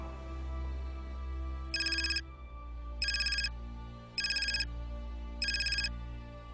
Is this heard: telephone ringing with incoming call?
yes